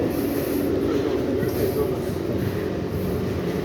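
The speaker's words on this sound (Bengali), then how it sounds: "এই দেখুন 13 কিলোমিটার পার আওয়ার গতিতে এই ট্রেনটা এখন যাচ্ছে।" Howrah–Kamakhya Vande Bharat sleeper train rolling slowly at about 13 km/h, a steady low rumble and rattle of the carriage heard from inside, continuous with no breaks.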